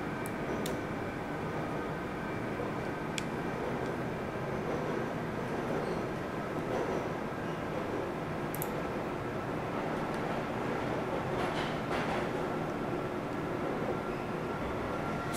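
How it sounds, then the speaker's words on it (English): An automated tram rides through the Black Mesa Research Facility in the Black Mesa video game, a steady, dense rumble of rail travel with occasional faint clanks and squeals throughout. "This automated train is provided for the security and convenience of the Black Mesa Research Facility personnel."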